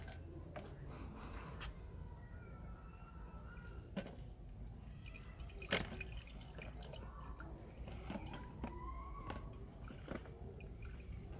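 Water drains and drips out of mixed pickle vegetables in a village kitchen, a soft, uneven trickle with scattered drips and small splashes close by, no talking over it.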